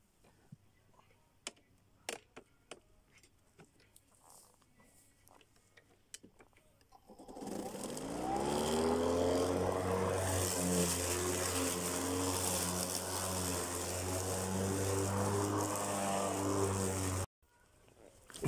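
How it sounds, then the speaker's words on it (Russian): An electric push lawn mower cuts tall grass at a country house, starting up after quiet ticking and running as a loud steady whir with varying load for about ten seconds before cutting off abruptly. "Электрическая ручная косилка берет без проблем."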